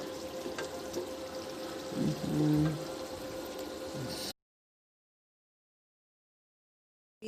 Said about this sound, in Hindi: और ये इसमें हमने आधी प्याली के करीब पानी डाला